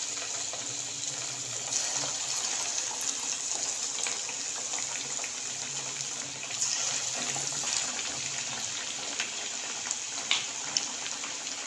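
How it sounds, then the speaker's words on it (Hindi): Fish pakora pieces fry in hot oil, giving a steady, close hiss and crackle of bubbling that carries on evenly throughout. "हम फ़िश के एक एक पीस उठाते जाएंगे,"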